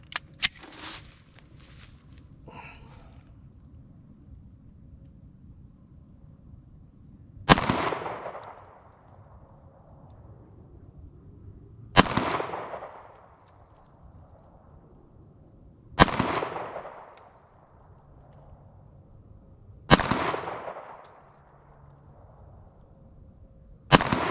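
Glock Gen 5 pistol firing bare lead bullets outdoors, five loud sharp shots spaced about four seconds apart, each with a short decaying echo, close by with no talking.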